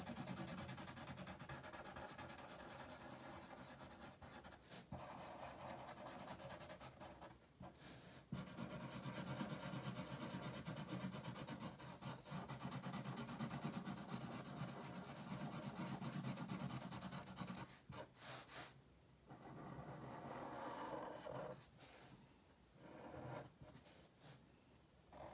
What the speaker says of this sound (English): you'll go ahead and color those in as well